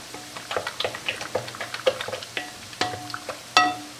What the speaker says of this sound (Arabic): نزيدوها مع هذا البيض عندنا في الاناء، نخلطو مزيان